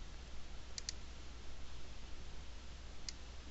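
Computer mouse clicks, two quick pairs of crisp clicks separated by a pause, faint and close over a low steady background hum.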